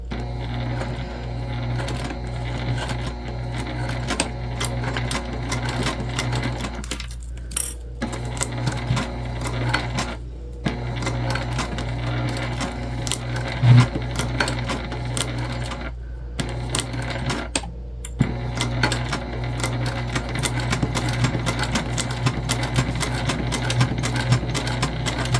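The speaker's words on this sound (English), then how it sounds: "go ahead and just stitch together at the full seam allowance" A sewing machine runs in steady rapid bursts while stitching a full seam allowance on a travel sling bag, its mechanical clatter pausing briefly several times before carrying on, close and moderately loud with no talking.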